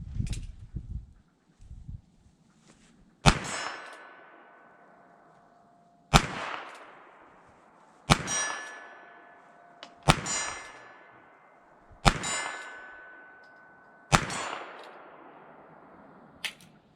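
Ruger Wrangler .22lr single-action revolver fired at a steel plate 25 yards out, six sharp shots spaced a couple of seconds apart, each followed by a ringing metallic clang that slowly decays.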